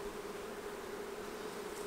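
Honeybees hum steadily around a brood frame of capped brood being lifted from a small hive, a continuous close, even buzz with no talking.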